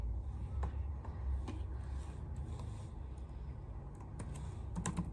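Steady typing on a computer keyboard while writing PHP code for an object-oriented programming exercise, with close, continuous key clicks and scattered louder keystrokes and no talk.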